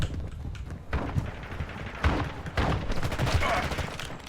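Ground War mode battle in Call of Duty Modern Warfare II, with dense, continuous gunfire and bullet impacts forming a busy wash of rapid shots and thumps at a steady level.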